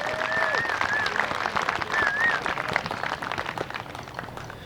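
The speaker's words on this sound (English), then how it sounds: "Let's give them all a round of applause for their wonderful music here today." Audience applause at an outdoor Highland games event, greeting the massed pipe bands after their performance: steady broadband clapping from a crowd, moderately loud and fading slightly, with brief faint whistles or voices mixed in.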